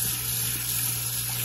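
Water draining down a sink, a steady continuous rushing wash with a constant low hum underneath, close and unbroken, with no voices.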